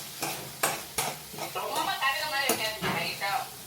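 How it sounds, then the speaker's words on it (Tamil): Onions and curry leaves sautéing for tomato chutney, a steady sizzle broken by several sharp spoon scrapes and knocks against the pan, with a voice talking over the frying. "இன்னும் வெங்காயம் கொஞ்சம் வதங்கணும்ல"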